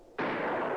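A video-game shotgun fired while out hunting, a single abrupt loud blast that cuts in sharply and holds a broad roaring tail to the end, with no talking.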